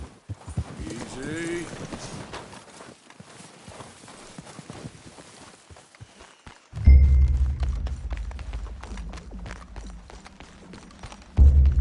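Horse hooves clip-clop at a walk to trot pace in Red Dead Redemption 2, with rhythmic thuds under a man's spoken urging, then louder ambient game sound swells in the second half.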